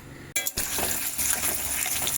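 Pieces of katla fish sizzle in hot oil in a pan, a continuous crackling hiss opened by a sharp clink and a brief gap, steady and close throughout.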